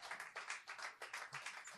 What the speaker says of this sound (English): can we get a round of applause, please, for the bar staff for taking care of you guys tonight?